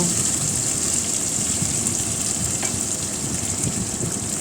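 Steady, close sizzling and crackling of pointed gourd peels frying in a pan, a constant hiss with no voices.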